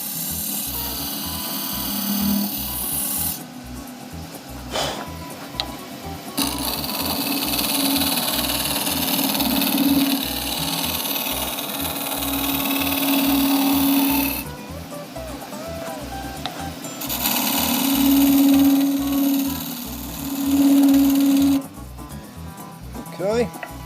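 A wood lathe turns a hybrid resin casting, with a steady motor hum and rough, intermittent scraping bursts as the tool nibbles at the spinning piece, close and fairly loud, with some talking over it.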